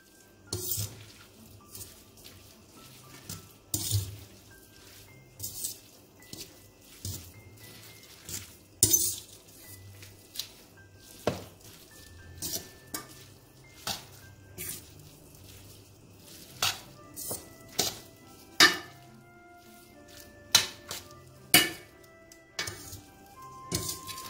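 Mushroom linguini with parmesan and fresh parsley being stirred in a pan, with repeated clinks and scrapes of a utensil against the pan over a soft sizzle, in irregular bursts throughout.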